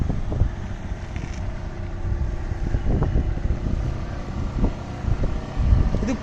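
A boat on the water near Poovar bridge, with a steady low engine rumble and wind noise buffeting the microphone throughout, loud and continuous.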